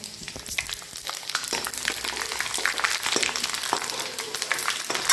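Pakoras frying in hot oil, with a dense, continuous crackling sizzle and bubbling throughout and occasional sharper pops as they cook.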